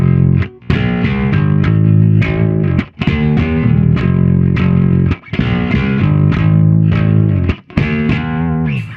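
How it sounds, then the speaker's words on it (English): Fingerstyle bass plays through a Zoom G1XOn on a Mesa Boogie Triple Rec patch, giving gritty, distorted notes in a loud, rhythmic riff with brief gaps between phrases. "I've got a little bit of distortion going on with the Zoom G1XOn. It's actually a Mesa Boogie Triple Rec patch with very little distortion on"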